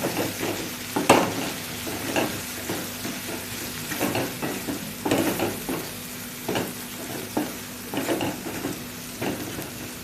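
Ground spices with garam masala and red chilli powder sizzle in a pan for dry matki bhaji while a spoon scrapes and stirs them in steady repeated strokes, close and moderately loud, with no talking.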